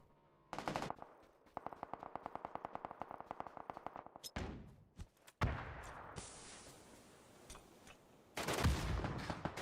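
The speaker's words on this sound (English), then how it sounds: "Shots just ringing off from a distance" Automatic gunfire rattles through a competitive shooter match: a burst of rapid rhythmic shots, scattered cracks and thuds, then a louder sustained volley at the end, with no talking.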